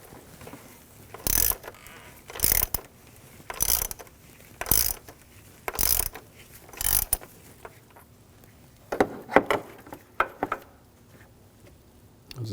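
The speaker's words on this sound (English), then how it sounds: "Now we're going to take the oil filter cap off." A ratchet wrench loosening the oil filter cap on a 2007-2013 BMW 328i: about eight crisp, evenly spaced clicking strokes, followed by a faster cluster of lighter ratchet clicks, close up with no talking.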